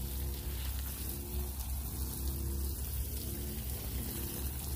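Liquid solution tinted with molasses is poured over potting soil and leaf compost in a clay pot, giving a steady, close rain-like patter and hiss that continues unbroken with no talk.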